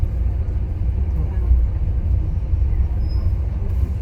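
Steady low rumble of riding aboard a passenger train on the Jim Thorpe line along a mountainside, with a Norfolk Southern freight due on the adjacent track; continuous, fairly loud and even, with no talk.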